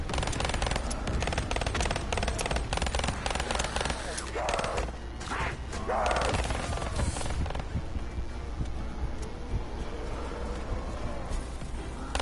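Rapid dual pistol gunfire in Black Ops 3 Zombies, with dense bursts of shots and explosions running through the whole stretch under loud game noise while players talk.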